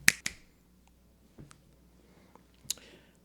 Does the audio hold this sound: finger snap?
yes